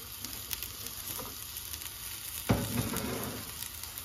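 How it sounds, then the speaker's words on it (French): Beef feet frying in a pan with a steady close sizzle and crackle, swelling briefly louder about halfway through as pieces are stirred or added. "on fait revenir aussi les pieds de veau. Les pieds de bœuf."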